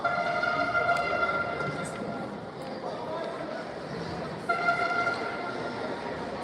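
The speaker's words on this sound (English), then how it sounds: "And there it is, the air horn." Air horn sounding at an ice hockey game, a loud sustained harmonic blast that cuts off and then sounds again briefly over arena crowd noise.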